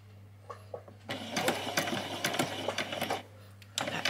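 A sewing machine stitching a doll's dress runs in short close bursts of rapid needle chatter, pausing briefly between runs over a steady low hum, with no voices.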